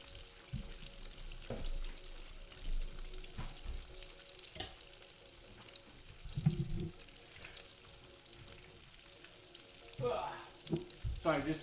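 Chicken for sweet and sour chicken sizzles in a pan of oil, a steady crackling hiss broken by the clatter of utensils and a few soft knocks from the stovetop.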